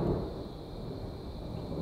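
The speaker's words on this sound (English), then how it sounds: "There's a thunderstorm coming." A low, continuous rumble of thunder with a steady wash of rain-like noise, fairly loud and unbroken throughout.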